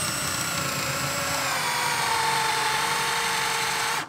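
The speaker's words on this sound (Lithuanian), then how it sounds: "Reikia trupučiuką toliau gręžti." A power drill boring a hole close to the edge of a workpiece, giving a steady, close, high-pitched whine that holds evenly and then cuts off abruptly at the end.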